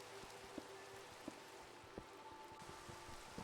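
Rain falling steadily in Minecraft, a soft continuous patter with occasional louder drops, even and fairly quiet with no voices.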